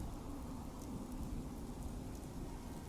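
Steady rain falls in the game Fallout 4, a continuous dense hiss with low rumbling beneath it, even and unbroken throughout with no voices.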